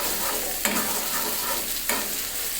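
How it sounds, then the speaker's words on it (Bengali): Onions fry in a wok with a steady close sizzle, broken by two spatula scrapes as they are stirred. "এখন এটা একটু লালচে হওয়ার আগ পর্যন্ত আমি ভেজে নিব"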